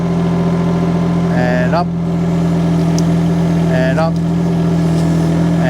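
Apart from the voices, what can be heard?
mini excavator engine revving while pulling up fruit tree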